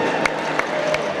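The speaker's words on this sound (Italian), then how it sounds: "Ragazzi, fate un applauso." Crowd applause at an outdoor rockabilly day in Vergato, a steady wash of clapping with a few sharper claps standing out, loud and continuous across the brief moment.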